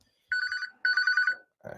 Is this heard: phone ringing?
yes